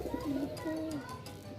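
Domestic pigeons coo close by in a loft, two soft throaty rolling coos in quick succession, fairly quiet.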